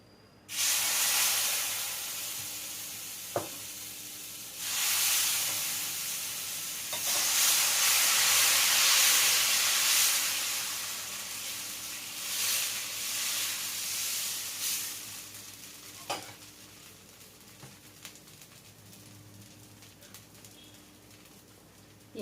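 Dosa batter poured onto a hot pan to make a crispy dosa produces swelling bursts of loud hissing sizzle that rise and fade, with sharp utensil taps and a faint background chirp.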